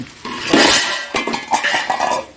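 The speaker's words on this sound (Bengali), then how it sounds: "ভাতের এই ঢাকনাটা পড়লো" A metal lid from a rice pot clatters down, ringing and rattling against cookware in a quick burst of several clanks at close range.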